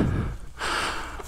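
Heavy breathing into a helmet-mounted microphone during a trail run, a sharp gasping inhale followed by a long, rough exhale, close and loud with no talk.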